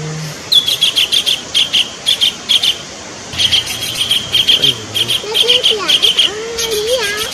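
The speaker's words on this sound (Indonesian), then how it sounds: "Burung apa tuh? Tengkek. Tengkek." Repeated shrill, rapid chattering calls of a collared kingfisher in bursts, fairly close, with a low murmur of voices and a second call in the background.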